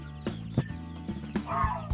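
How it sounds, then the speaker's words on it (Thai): Newly hatched domestic chicks, about eighty fresh from the incubator, cheep in a brooder amid sharp, repeated knocks and thumps, with overlapping bird calls close by. "ลูกไก่แรกเกิด"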